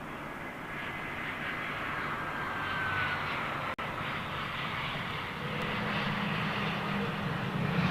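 An Aer Lingus jet airliner at Heathrow Airport on a foggy day produces a steady, broad engine roar that holds constant throughout, fairly distant and without talk.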